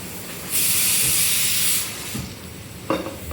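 Steam hisses out of a pressure cooker after boiling potatoes in a home kitchen: a loud, steady rush of hiss for over a second, then fading to background kitchen noise with a few small clatters.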